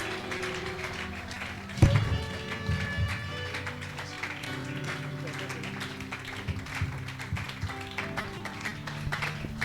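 At a Sunday church service, the congregation claps rhythmically in acclamation, with one sharp clap standing out early on. Sung or spoken voices and music carry along under the steady clapping.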